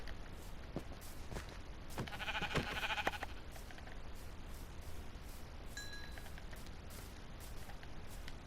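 Sheep in the Minecraft video game, a short burst of bleating in the middle over a steady background, along with faint clinks and soft footsteps.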